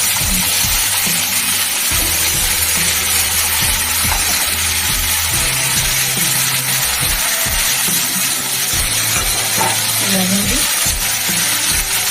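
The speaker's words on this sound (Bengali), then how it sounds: "এই তেলের উপরে একটা শুকনো আদরা দিয়েছি আর এটা থেকে দিচ্ছি সিদ্ধ করা চিংড়ি আর আলু" Boiled shrimp and potatoes with dried ginger hit hot oil, giving a steady, loud sizzle and crackle throughout, with occasional stirring clatter and a voice talking in the background.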